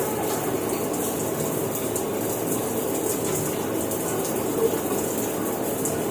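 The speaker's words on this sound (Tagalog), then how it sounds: "Dito mag-shower na muna tayo." Shower water running steadily in a bathroom, a constant hissing spray with no pauses and no voices.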